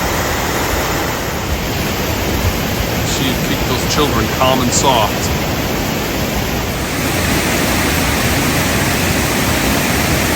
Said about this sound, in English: Here's a third extra special bonus waterfall.